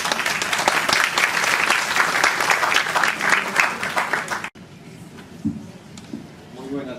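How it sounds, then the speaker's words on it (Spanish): An audience at a university education event in Peru bursts into loud, dense clapping that stops abruptly partway through, followed by quieter room sounds and a voice beginning to speak. "Recibámoslo con un caluroso aplauso."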